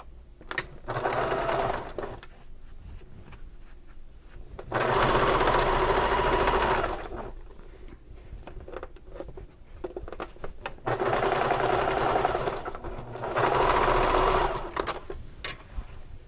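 A sewing machine stitches a half-inch seam on a bag in steady whirring runs, loud and close, with short pauses between bursts and no talking.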